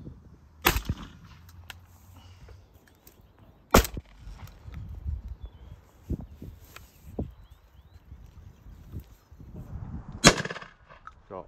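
Shotgun shots from a Beretta A400 Extreme Plus and a Winchester SX4 while pigeon shooting over a bean field outdoors: three sharp, loud reports spaced several seconds apart, with quieter rustling and wind between them.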